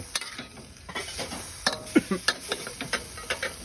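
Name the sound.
Mekong giant catfish stir-frying in a pan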